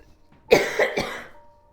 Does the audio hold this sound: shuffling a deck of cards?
no